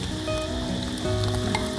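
Noodles sizzle and fry steadily in a pan at a riverside campsite, a continuous close hiss with no voices over it.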